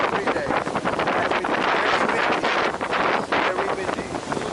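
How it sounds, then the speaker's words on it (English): Strong wind roars steadily across the microphone during a ferry ride from Tanjung Gemuk jetty to Pulau Tioman, Pahang, Malaysia, a loud, unbroken buffeting rush with boat and water noise blurred underneath. "very windy."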